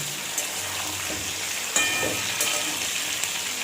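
Potato karahi sizzles hard in a pan over high flame, a steady hiss with a few sharp clicks and spatters, no voices over it.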